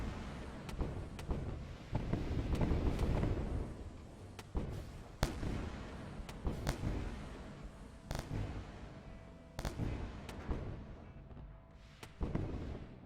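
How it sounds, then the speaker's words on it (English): Enemy cannon fire in the space game Wayward Terran Frontier: sharp booming blasts at irregular intervals, about a dozen loud impacts over a low rumbling background. "They got their stupid cannon working."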